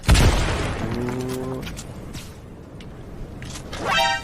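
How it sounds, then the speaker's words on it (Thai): A loud, deep grenade explosion in Fortnite booms right at the start and rumbles away, followed by quieter game sound effects and a faint tone. "ใครปาระเบิด"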